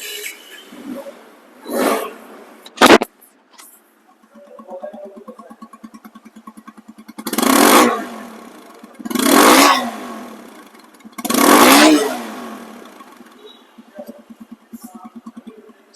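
A TVS Apache RTR 160 motorcycle in showroom condition idles close by with a steady low putter, broken by a short blip and then three strong throttle revs that rise and fall, with no voices.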